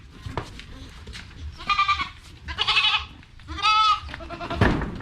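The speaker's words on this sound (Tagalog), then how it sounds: "yan po yung magiging kambing ni Cloud" A goat bleats three times in loud, wavering calls close by, spaced about a second apart, over quiet outdoor background noise and no talking.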